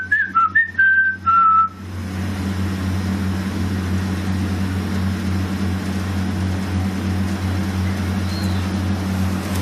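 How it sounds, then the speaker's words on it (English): A few short, bright whistled notes ring out at the start, then give way to a steady low engine-like rumble with one faint whistle later. "Can you copy this whistle?"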